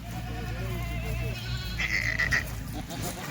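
Kathiawadi goats, part of a herd of more than ninety, bleat in wavering calls over a steady low rumble, loud and close.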